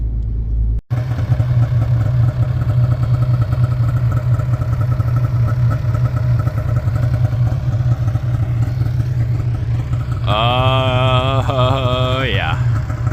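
A Polaris 850 Boost snowmobile engine runs loud and steady, starting abruptly and humming at a constant idle-like drone, with a rising whining tone near the end.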